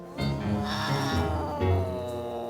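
A big cat growls in a low, building rumble, with tense throaty tones that swell in two surges over a couple of seconds. The sound is close and fairly loud.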